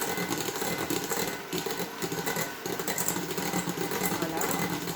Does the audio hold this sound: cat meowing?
no